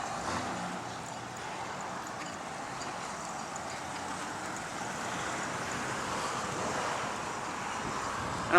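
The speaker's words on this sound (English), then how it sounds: "The wind is quite blustery." Blustery outdoor wind buffets a microphone fitted with a homemade wind muff along 28th Street South East during a car show, a steady broadband rumble and roar that never lets up.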